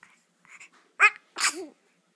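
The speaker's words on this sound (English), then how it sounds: "He sure does sneeze a lot for a little kid." A small child's sneeze, a quick catch of breath then a sharp burst, with faint babbling sounds just before, otherwise quiet.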